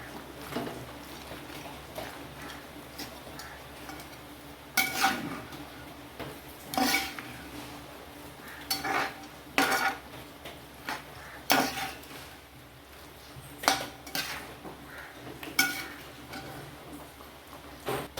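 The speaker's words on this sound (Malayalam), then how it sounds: "ഇനി ഒന്ന് നന്നായിട്ട് ഇളക്കി കൊടുക്കാം" Metal spoon scraping and knocking against a pot while beef curry with raw plantain is stirred, giving irregular clinks and scrapes spread across the stretch over a low kitchen background.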